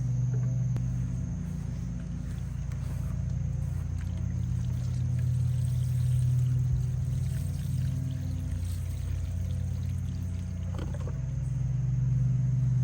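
A garden hose on jet setting filling an urn with fertilizer mixed into the water, a steady low rushing, gurgling pour with a constant hum underneath, close and unbroken.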